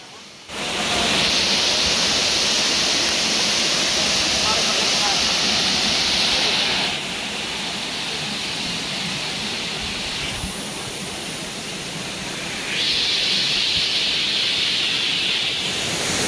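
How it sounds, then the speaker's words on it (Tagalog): Gadan-gapo Falls in Lagonoy roars as a loud, continuous broadband rush of falling water. The level dips in the middle and then swells again. "narating agad namin ang isa sa mga magandang waterfall sa bayan ng Lagonoy"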